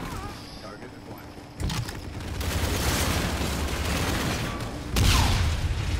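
Shotgun blasts in Call of Duty: Infinite Warfare, heavy booming reports amid dense continuous game action, with a sharp loud blast near the start and another strong hit toward the end.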